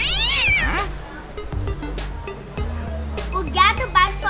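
Several cat meows, high and drawn out, at the start and again near the end, over a low background hum with a person talking in Portuguese.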